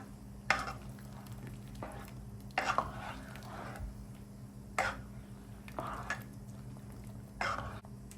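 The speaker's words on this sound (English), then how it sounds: "I'm going in with my piece of butter. Let's give it that stir." A pot of butter with scallion, fresh thyme and two Scotch bonnet peppers stirred by spoon, several short scraping, sizzling strokes at a quiet level, spaced a second or two apart.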